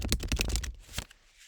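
A deck of playing cards is given a formal shuffle, a quick run of crisp riffling flutters followed by a couple of softer taps as the cards settle.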